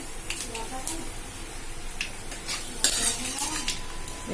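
Prawns fry in hot oil in a home kitchen for a mustard prawn curry, a low sizzle under repeated metal stirring and scraping of a utensil against the pan, with a voice talking over it.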